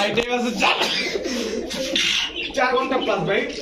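Caged pigeons coo at a Bangladeshi pigeon market selling Giribaz, Kokka, Rampuri, Gorra and Chila breeds, a steady low murmur of several birds with chirps, close by and under a voice throughout.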